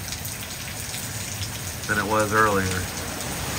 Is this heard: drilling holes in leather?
no